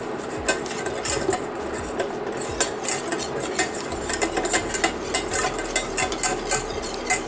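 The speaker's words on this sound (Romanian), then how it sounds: "Amestecăm pentru a nu se face cocoloașe." A utensil stirs flour and water in a saucepan for cozonac scalded dough, with quick repeated scraping and tapping against the pan in a steady rhythm, close and clear without talk.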